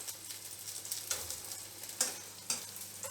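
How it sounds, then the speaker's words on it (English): Eggplant pieces frying slowly in a pan over low heat, a steady soft sizzle with a few brief louder crackles and stirring scrapes, close and alone with no talk. "I am going to still slow cook it on the low heat till it's get brown and cooked."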